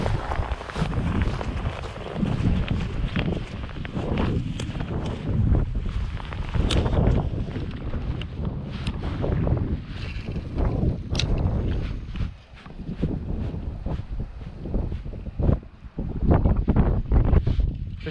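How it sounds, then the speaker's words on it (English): Heavy wind buffets the microphone outdoors by a Wyoming trout fishing spot, a loud, continuous rumbling roar with gusty surges and brief dips. "I apologize in advance for the wind noise. It's gonna be bad."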